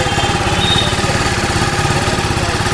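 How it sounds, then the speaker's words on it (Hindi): A TVS Apache RTR 310 motorcycle idles steadily with its exhaust close by, a loud continuous low pulsing throb with a fine, even rhythm and no voices. "तो ये इसका एग्जॉस्ट नोट सुन लो आप आइडल कंडीशन में"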